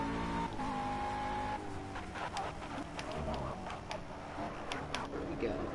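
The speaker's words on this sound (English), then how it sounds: "Feathering throttle, second gear. Exit out. Full throttle all the way." A GT3 race car in a racing video game at the French GP, a steady engine drone with throttle changes and gear shifts while tick-like clicks and brief tire squeals surface through the mix.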